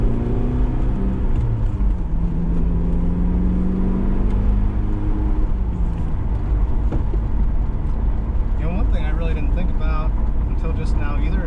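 First-generation AWD Eagle Talon driving with a window open, its engine droning loudly and steadily with turbo whir and road and wind rush throughout, while people talk over it.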